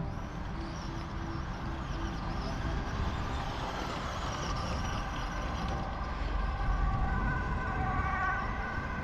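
A brushed two-wheel-drive Traxxas Slash RC car runs steadily, its motor whine and rolling noise holding at an even, fairly loud level throughout with no talking.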